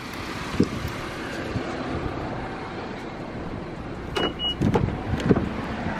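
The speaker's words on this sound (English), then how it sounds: "We driving the red car today." Red car driving with steady broadband road and wind rumble throughout, a few low thumps and a brief whine near the end, no talking.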